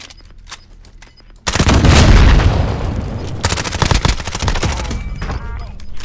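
Sniper rifle shots in a first-person shooter game ring out as a loud, sudden blast followed by a long decaying rumble, then a burst of sharp rapid reports, heard without speech.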